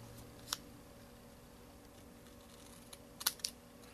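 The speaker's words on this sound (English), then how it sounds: "And now for my pie tin, I am going to just cut at an upwards," Scissors snip through a thin metal pie tin in a quiet room, one sharp cut followed by a brief cluster of crisp metallic snips a few seconds later, close and faint.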